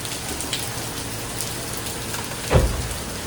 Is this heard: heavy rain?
yes